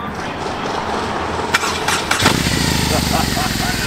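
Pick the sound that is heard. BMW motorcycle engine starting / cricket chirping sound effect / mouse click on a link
BMW motorcycle engine starting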